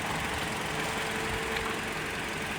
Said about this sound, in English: So this engine is not shaking too much.